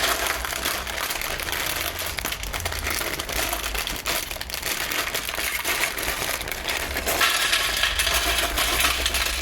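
Continuous crinkling and rustling of a plastic bag of Captain Rex helmet kit parts being opened close up, with occasional small rattles of loose parts inside.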